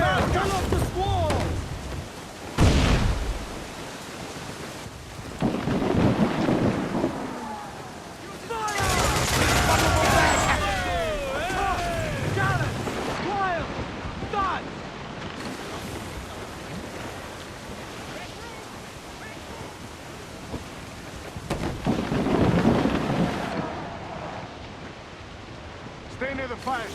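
A storm squall at sea in the pirate game Assassin's Creed IV: Black Flag brings roaring wind, rain and crashing waves, with booming cannon fire and shouting crew voices breaking through at intervals.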